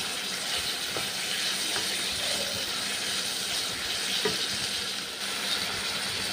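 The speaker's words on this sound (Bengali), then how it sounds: "গাজর ভেজে নিচ্ছি।" Carrots frying in oil in a kadai, a steady close sizzle holding evenly throughout with no talking.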